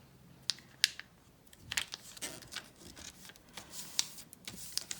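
Paper being folded by hand into an origami dress: quiet, close crisp creases and crinkles, with several sharp snaps scattered irregularly over the few seconds and no voices.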